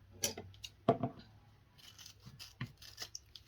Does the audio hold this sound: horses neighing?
no